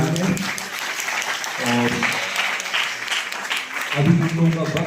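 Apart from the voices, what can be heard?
audience applause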